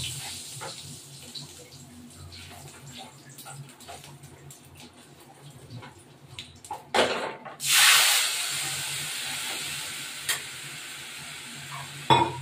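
Spice masala with green chilli, chilli powder, cumin, coriander and ginger paste fries in a pan, a soft continuous sizzle with occasional stirring scrapes, then a loud hissing burst as liquid hits the hot pan.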